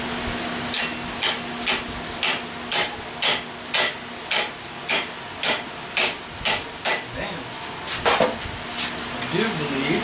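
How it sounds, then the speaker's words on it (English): A hook and hammer work the roll pan of a 1998 Chevy truck, giving a steady series of sharp metallic taps about twice a second, close by, followed by a few more irregular knocks. "I will use this hook and hammer. Hook it in behind here."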